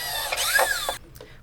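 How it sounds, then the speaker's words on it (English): A power drill bores holes through a plastic bucket, giving a brief, close whining burst with a rising and falling pitch for about a second before cutting out, followed by a faint tap. "Use a drill to make holes in those 4 places."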